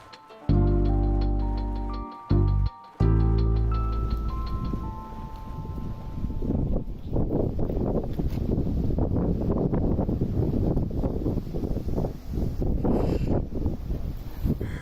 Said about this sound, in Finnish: Tänään tuuli ihan huolella